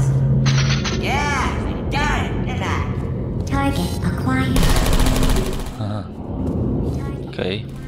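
Automated turret fire from the Portal 2 video game, clattering bursts of gunshots with booms and mechanical whirs, loud and dense throughout, with game voices layered in the mix.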